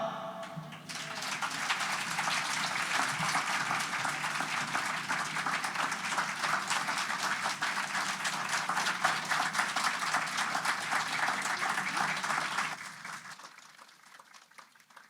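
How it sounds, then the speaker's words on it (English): An audience at a live reading and music event applauds for a group of singers, with dense, steady clapping filling the room for about twelve seconds before fading out. "Clap for the PV singers"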